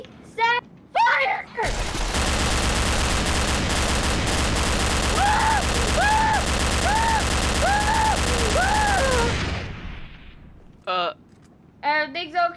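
Sustained loud volley of gunfire in Garry's Mod roars continuously for about eight seconds, then cuts out, with excited voices talking before and after and whooping over the shooting.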